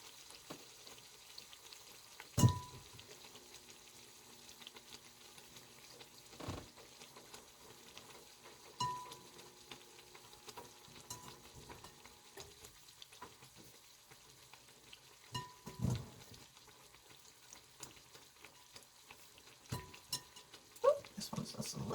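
Dough for fried bake sizzles quietly in a pan, a soft steady frying hiss with occasional faint clinks and taps of utensils.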